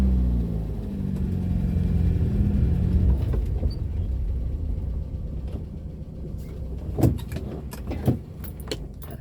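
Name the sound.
car engine as the car is moved forward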